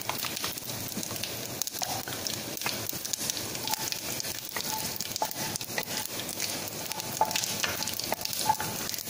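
Mustard seeds, urad dal, cumin, black pepper and fenugreek seeds temper in hot oil for a brinjal kara kuzhambu, producing a loud, dense crackling sizzle with rapid popping throughout.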